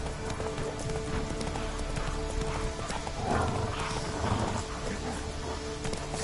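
Roach, a horse in The Witcher 3 video game, trots with steady clip-clopping hooves over a constant hiss of rain, the rhythm continuous and moderately close throughout.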